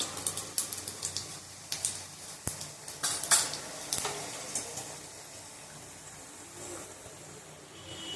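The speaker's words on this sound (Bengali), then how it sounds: "ভালো করে ফোড়নটা ভেজে নেব" Panch phoron spices frying in hot oil in a pan: a low steady sizzle under repeated sharp metallic clinks and scrapes of a spatula, close up, with no talking.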